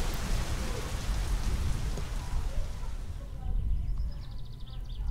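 Heavy rain in the game My Summer Car hisses and patters loudly at first, then thins into a softer, sparser fall in the last seconds, with a faint chirping sound appearing as it eases.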